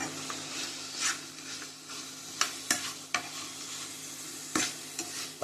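Masala is stirred into chicken pieces frying in oil, with a quiet sizzle under repeated spoon scrapes and a few sharp knocks against the pan.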